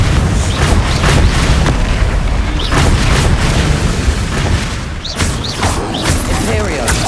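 Fiery spell blasts and booming explosions from a Hogwarts Legacy battle fill the scene with dense, continuous roaring bursts, loud and close, while a voice calls out over the clamor.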